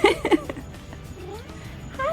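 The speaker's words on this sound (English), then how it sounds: "Kitty kitty." A house cat meows in a kitchen during fall cleaning and baking: two short, bright meows close by at the start, then a softer rising call near the end, with low household noise between.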